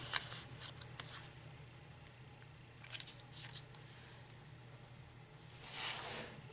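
Scissors cut out paper shapes for a Halloween treats craft: soft, quiet snipping and rustling sounds in scattered bursts, close by, over a low steady background hum, with no talking.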